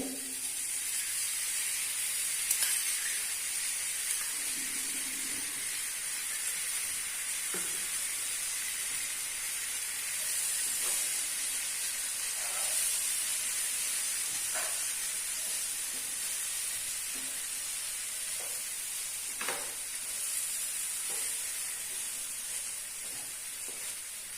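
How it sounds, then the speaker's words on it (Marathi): Tomato frying in a spice tempering, giving a steady soft sizzle and hiss with occasional faint stirring clicks, close and continuous without talk. "फोडणीमध्ये टॅमॅटो चांगला परतून घ्यायचं आहे पण आता मी हा असाच टाकून घेते"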